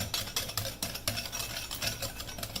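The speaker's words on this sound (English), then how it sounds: "Now you're going to whisk that cornstarch into your sugar" Cornstarch being whisked into sugar in a bowl, a quick rhythmic scraping and stirring repeated several times at close range; no talking.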